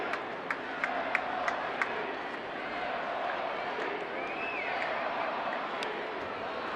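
Steady murmur of a large baseball stadium crowd on a Tuesday night at an Angels vs Rangers game, a broad distant hum with scattered sharp claps or knocks and a brief whistle, no talk over it.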